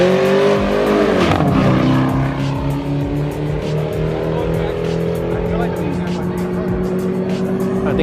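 An MK6 GTI and a BMW E90 328i accelerate hard in a street race, loud engines climbing through the revs with a shift and a rising, steady drone close by, while people talk excitedly over the noise.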